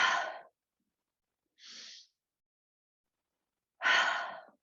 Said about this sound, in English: we can work on that breath, breathing in and out through the nose